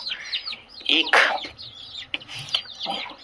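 Free-range desi chickens cluck in short irregular bursts nearby, moderately loud, with a bit of background noise.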